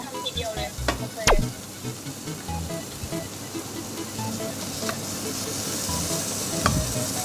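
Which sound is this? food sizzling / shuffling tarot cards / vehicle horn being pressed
food sizzling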